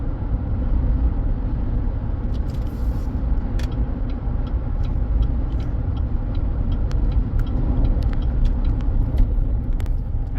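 A 2015 Chevrolet Silverado truck with a suspected torque converter fault shakes hard, giving a steady, loud low rumble of engine and drivetrain vibration with faint rattles throughout.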